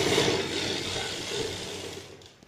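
Steady motorized whir of a sewing machine stitching a Patiala salwar, a continuous close mechanical hum with a faint rattle running almost unbroken for over two seconds before tapering off.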